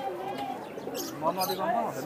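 Pigeons coo softly at a busy pigeon market in Khulna, their low, wavering calls running under close, continuous talk from people nearby.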